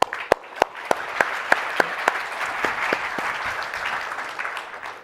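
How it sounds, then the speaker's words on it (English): An audience at a memory technology conference keynote applauds to welcome a speaker, with a few sharp individual claps standing out at first before merging into a steady, even wash of clapping that slowly fades. "Please join me giving him a warm round of applause."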